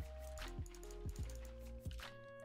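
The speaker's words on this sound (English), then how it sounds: "And then inside of it, the water goes in." Water placed into a hot tub in Minecraft gives a few soft liquid squishes and splashes, with short drippy bursts spread over a couple of seconds against a steady background music tone.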